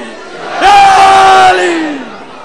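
A large crowd at a Muharram majlis roars a loud unified shout in reply to the Haidari slogan, one sustained burst lasting about a second before trailing off in an echoing hall.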